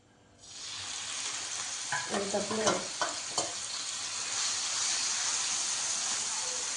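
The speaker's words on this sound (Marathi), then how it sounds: "चांगलं फ्राय करून घेऊया याला त्याला" Coarsely crushed green chilli and garlic thecha hits a hot pan with a sudden loud hiss, then sizzles steadily while a spatula scrapes and taps through it several times.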